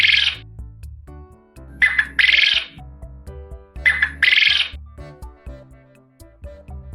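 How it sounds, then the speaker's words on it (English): Quail calls in two-part bursts, sharp and chirping, repeating three times over a soft background tune. "Quail is a wild animal."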